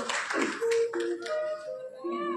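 Brief hand clapping from a small audience at a Gau Katha religious gathering, a few scattered claps up close.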